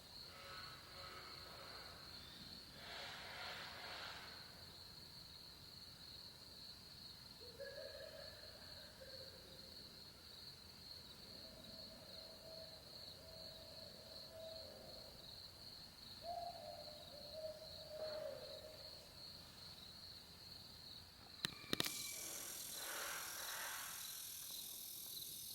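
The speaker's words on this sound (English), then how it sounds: "Can you hear the owls?" Owls hooting at night on a rural homestead, several soft, drawn-out hoots at moderate distance over a constant high chorus of crickets, with a sudden brief rustle and knock near the end.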